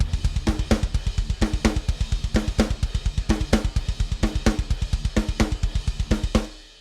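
Rapid machine-like programmed extreme-metal kick drums rumble continuously while snare and cymbal accents land off the beat in a syncopated pattern, stopping abruptly at the end.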